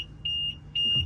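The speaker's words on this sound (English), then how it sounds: "Oh, there's the alarm." A BMW car alarm sounds two long, steady electronic beeps separated by a short gap. The beeps are clear and moderately loud over a low background rumble.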